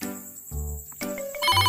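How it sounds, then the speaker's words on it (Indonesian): A telephone ringtone plays nearby, a short melodic electronic ring that shifts pitch and grows louder toward the end. "Telepon Bilal bang nah."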